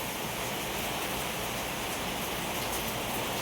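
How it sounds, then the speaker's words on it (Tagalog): Heavy rain pours steadily in a dense, even hiss with no pauses, loud and close, with no voices over it. "malakas na naman ang ulan"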